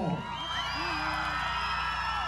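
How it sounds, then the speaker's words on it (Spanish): A jaripeo crowd at the Lienzo Charro El Caracol in La Hincada, Guadalcázar, San Luis Potosí, keeps up a dense, continuous roar of cheering and applause, with whoops and yells rising out of the broad wash of noise. "le damos el aplauso público"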